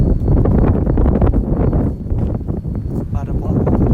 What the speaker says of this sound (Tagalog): Malakas po simoy ng hangin.